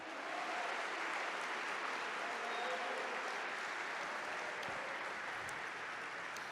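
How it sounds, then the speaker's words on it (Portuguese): Church congregation applauding steadily throughout, a dense, sustained wash of clapping from a large crowd filling the space at an even level, with no speech over it. "Aplauda o nome do Senhor, aleluia."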